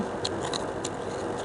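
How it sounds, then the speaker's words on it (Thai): Crispy deep-fried sushi with egg inside is bitten close to the mic, giving three short, crisp crunches spaced about a third of a second apart over a low, steady background. "ได้ยินคำกรอบไหม"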